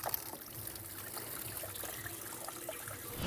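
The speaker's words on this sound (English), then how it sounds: "And then it's going to drain pretty rapidly" Oil draining rapidly from a BMW N55 engine during an oil filter housing gasket job, a steady close trickle and dribble of liquid running continuously with no talk.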